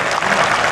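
An audience at a poetry festival (kavi sammelan) bursts into a dense, loud round of clapping that fills the brief moment with no voice over it.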